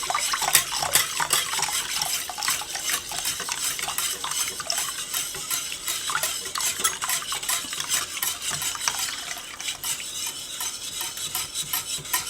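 Milk sauce for a chicken or turkey pot pie filling being stirred in a pot, a continuous scraping swirl of utensil against metal with soft bubbling, steady and close with no talking.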